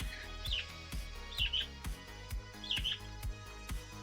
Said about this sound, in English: Probably because of the bird.